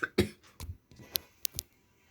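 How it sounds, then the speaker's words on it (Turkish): A person coughs several times in short, separate bursts, close and fairly quiet, with brief pauses in between and no speech. "Bir öksürük tuttu arkadaşlar"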